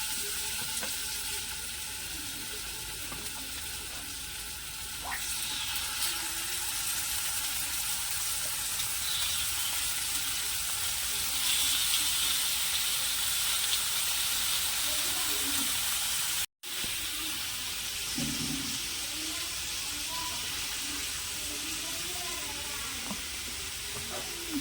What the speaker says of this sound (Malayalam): ഒരു പീസ് ചിക്കൻ, നമ്മളിത് ലോ ഫ്ലെയിമിലാട്ടോ ഉണ്ടാക്കുന്നത്.